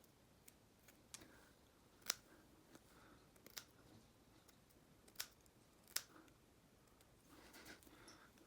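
Scissors trimming long mustache hair up close, quiet sharp snips at irregular intervals, several distinct cuts over faint background, no talking.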